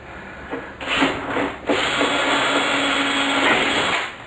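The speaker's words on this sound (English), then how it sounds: "so we're going to drill through this end" Power drill boring through a car door card, a loud continuous whirring grind that starts, briefly stops and starts again, then runs steadily for several seconds close by.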